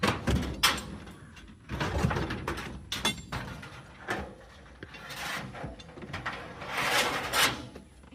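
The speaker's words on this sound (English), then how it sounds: "Got the storm door off, and you still have a closable front door." A storm door is worked loose and taken off a mobile home's front entrance, giving a run of close, irregular knocks, clunks and rattling scrapes spread across the stretch, with no voices.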